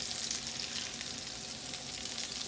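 Steak frying in butter in a pan gives a steady, close hiss and crackle of sizzling fat that holds evenly throughout, with no talking.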